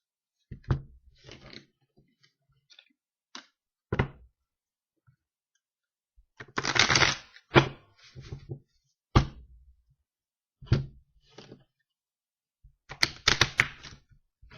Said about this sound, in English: let me give you some good shuffle.